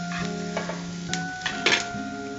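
Onions and mixed vegetables sautéing in a pan, a soft sizzle with a few brief scrapes and clinks from stirring over a steady background hum, close and without speech.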